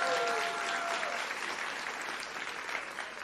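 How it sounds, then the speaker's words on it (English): A crowd claps steadily in sustained applause that slowly tapers, with no speech over it. "Can I get a big round of applause"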